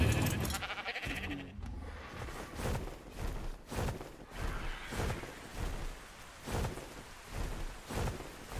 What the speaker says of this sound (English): There you go. Pink sheep.